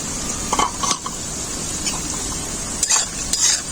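Papaya pieces frying in oil in a pan for a mixed fruit chutney, a steady sizzle broken by several clinks and scrapes of a spoon stirring against the pan, close and fairly loud.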